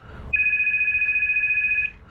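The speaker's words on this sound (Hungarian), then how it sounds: "ha nem törné meg a csendet a telefon hangja" An old telephone rings in a Vodafone advert, one continuous trilling electric bell of about a second and a half, loud and close, over a quiet background.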